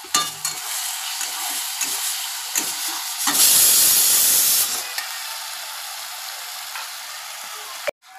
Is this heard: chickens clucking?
no